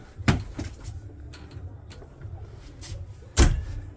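Wardrobe drawers and cupboard doors in a 2025 Thor Magnitude XG32 RV open and shut, giving two sharp knocks between quieter sliding and rustling sounds nearby.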